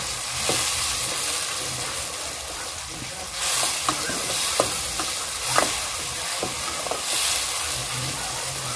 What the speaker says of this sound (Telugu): కొంచెం పచ్చిగా ఉండేదంతా పచ్చివాసన పోయేంత వరకు టమాటాలు నూనెలో వేసుకుందాం